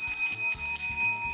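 A notification bell sound effect rings out in a quick series of bright, sustained metallic chimes with no talking, set within a Thai agricultural talk show.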